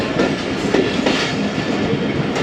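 A 9UP Allama Iqbal Express train rumbles at Drigh Road station, a loud, steady roar of rolling carriages with wheel clatter and no voices.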